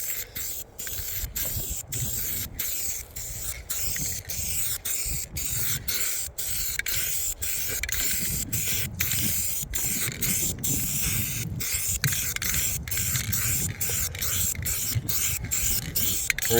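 Rust-Oleum 5-in-1 spray can releasing paint in a continuous close hiss, broken by frequent brief stops and restarts as the nozzle is pressed in short bursts.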